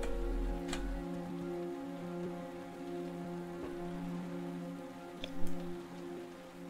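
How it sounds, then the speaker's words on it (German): Pouring rain in the video game Heavy Rain, a steady wash of rainfall with scattered drip ticks over a low musical drone, no voices. "Es regnet in Strömen."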